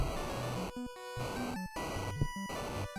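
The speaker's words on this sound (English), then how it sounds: "So the sound you can hear there is me taking some damage." Retro Final Fantasy romhack game audio as the character takes damage walking on damaged floor tiles, short bursts of harsh noise repeating over chiptune-like tones, steady and fairly quiet.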